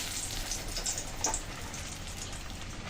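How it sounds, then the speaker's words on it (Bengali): Dried red chillies and bay leaf hit hot oil for a soybean curry tempering, giving a steady, moderately quiet crackling sizzle with a few small pops. "এখন আমি ফোড়নে দিয়ে দিচ্ছি শুকনো লঙ্কা,"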